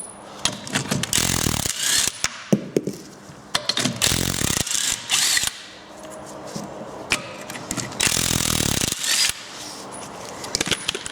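An impact wrench hammers in several short, loud, rattling bursts as it removes the front subframe nuts on an MGB under restoration, separated by brief pauses and clanks of metal.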